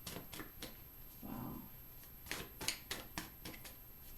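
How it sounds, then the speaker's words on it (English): Tarot cards are shuffled in a series of quick, crisp riffling snaps, spaced irregularly, close and fairly quiet with a soft rustle between. "Just got to keep shuffling until it feels right."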